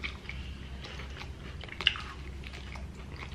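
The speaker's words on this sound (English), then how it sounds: "These celery sticks extra crunchy." Crunchy celery sticks are chewed close to the microphone during a Buffalo Wild Wings eating session, a steady run of moist crunching bites with one sharper snap partway through.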